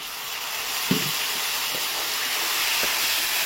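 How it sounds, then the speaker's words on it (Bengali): Water is poured into a hot pan of frying spiced chickpeas and raises a loud, steady steaming hiss that keeps going, with a few soft knocks of a utensil against the pan. "হালকা একটুখানি জল দিয়ে কষাবো"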